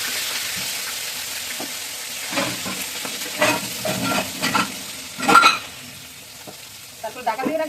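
A fish head frying in hot oil, with fenugreek seeds spluttering beside it, crackles and sizzles steadily with sharper pops and stirring clatter, close and loud.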